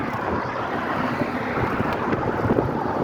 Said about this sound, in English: It's windy today, but a lot more wind yesterday.